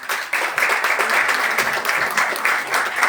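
Dense audience applause after a talk on Star Wars, steady and fairly loud throughout, with many hands clapping at once and no clear voices on top.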